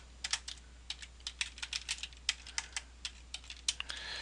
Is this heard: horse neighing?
no